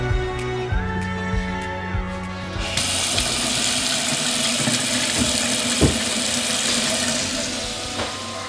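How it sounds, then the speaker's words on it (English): Water gushes steadily from a home tap, a continuous loud hiss and splash that swells after a few seconds and runs on with faint knocks and clunks, no talking. "Running water in our home after how long now?"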